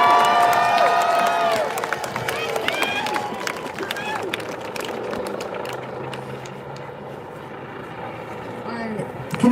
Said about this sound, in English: Make some noise for Yari, y'all